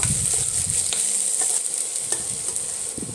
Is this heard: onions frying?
yes